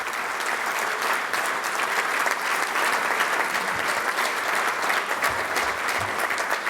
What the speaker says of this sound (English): let's give Anthony a round of applause he deserves